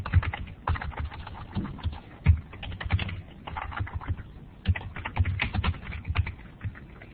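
Fingers type steadily on a computer keyboard while invoice details go into an Excel spreadsheet, producing a dense, close run of clicking keystrokes with short pauses between bursts.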